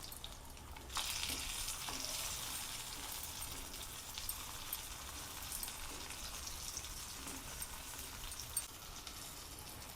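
Cheese corn mini parathas crisping in a pan, giving a soft, steady hiss of frying that rises after the first second and holds evenly, with faint occasional ticks, quiet and close.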